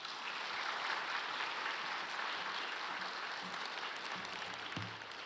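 A church congregation at a special early-morning prayer service applauding to welcome a pastor, sustained distant clapping from many hands that tapers slightly at the end.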